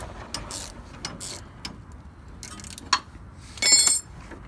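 Box wrench ratcheting on a sway bar bolt during a coilover install on a Mazda Miata, a series of close metallic clicks and clinks in short bursts with a louder ratcheting run near the end.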